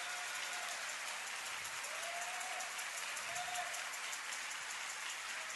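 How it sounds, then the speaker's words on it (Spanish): Church congregation applauding steadily after a sermon, a dense, even wash of clapping throughout with no talk over it. "Por favor, denle un aplauso a la palabra de Dios."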